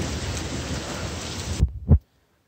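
Monsoon rain pours steadily at night, a dense hiss of drops on surfaces, then cuts off after a couple of low thumping rumbles like close thunder.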